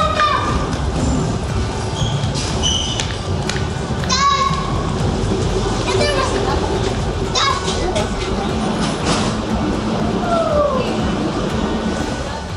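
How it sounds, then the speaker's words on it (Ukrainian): A Barcelona metro train pulls into an underground station, its rumble and rail screech filling a busy platform while children's voices and crowd chatter carry over the noise. "Поїзд приїхав, Марко."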